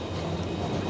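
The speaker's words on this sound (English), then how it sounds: "Apologies if you can hear trams going in the background." Trams rumble past on busy O'Connell Street in Dublin, a steady low rolling drone of rail traffic close by, continuous and fairly loud with no talk over it.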